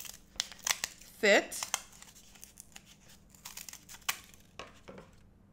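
Scissors snip and trim small cardboard pieces for a paper scrapbook layout in a few close, crisp cuts with papery rustling, while a voice talks quietly.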